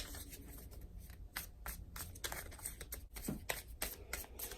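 Tarot cards being shuffled and drawn, a close, quiet run of riffling and flicking slaps in quick uneven bursts.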